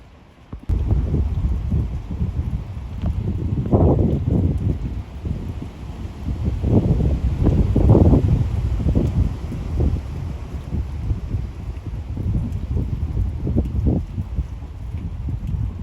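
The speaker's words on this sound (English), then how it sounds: "The rain is coming down" Heavy rain and gusting wind from Hurricane Melissa in Manchester, Jamaica, a steady loud roar with stronger bursts throughout and no talk.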